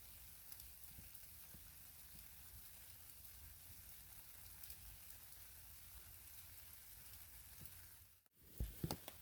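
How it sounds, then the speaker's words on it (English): Steady rain pattering on a camp tarp at a forest campsite along the Florida Trail, an even, dense hiss of drops throughout, with a brief rustle and knock near the end. "now it's raining"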